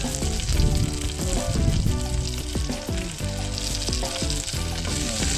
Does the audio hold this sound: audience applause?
no